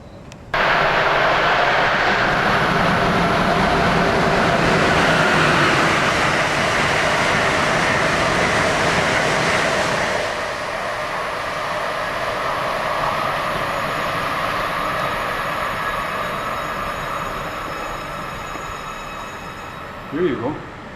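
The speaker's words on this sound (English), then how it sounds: "how loud the old Orange Line trains are" A loud, roaring old Orange Line subway train rumbles and screeches past close by at Forest Hills station, the heavy mechanical noise continuing for a long stretch before easing off somewhat.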